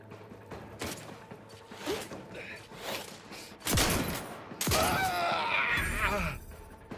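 Gunfire in The Outer Worlds 2 as a companion takes pot shots at an enemy near a building: several scattered, sharp shots spaced a second or so apart, the strongest pair close together toward the end, over game ambience.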